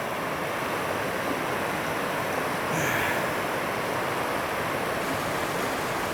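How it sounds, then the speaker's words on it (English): A small forest waterfall pours in a steady, even rush of water, a continuous broadband hiss that stays constant and close with no voices. "See, this is always a cool little waterfall."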